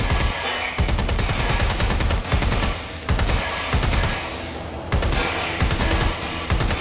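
Rapid automatic gunfire from the Watch Dogs Legion video game rattles in loud, dense bursts that repeat several times with brief pauses between them.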